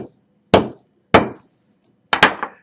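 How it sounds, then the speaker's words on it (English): A hammer strikes a piece of silicon three times, loud sharp cracking impacts with quick decay, the last blow a rapid double hit, in an otherwise quiet room. "all we have to do is hit it with a hammer"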